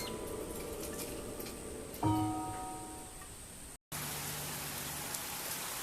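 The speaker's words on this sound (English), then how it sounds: "It just rained all night. It hasn't stopped." Steady rain falling all night in a flood-hit area, a constant close hiss of drops with a brief tonal interruption partway and a sudden cut before the downpour continues.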